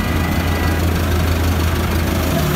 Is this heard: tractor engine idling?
yes